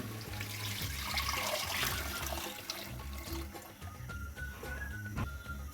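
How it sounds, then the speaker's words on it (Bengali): Strained tomato water pours steadily with a continuous splashing wash, fairly close, no voices. "দিয়ে দিচ্ছি ছেঁকে রাখা টমেটোর পানিগুলা"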